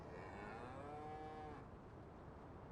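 Cattle at a cow farm in Farming Simulator 19 on the Walchen map give one drawn-out moo over a dense, grainy farmyard background, quiet and somewhat distant.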